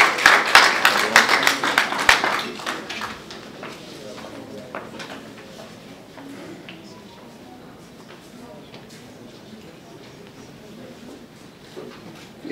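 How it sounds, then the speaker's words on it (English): A round of applause welcoming a Ghanaian deputy minister at an arts launch event, loud clapping at first that thins out and fades under a speaker's voice. "Let's welcome her with a round of applause."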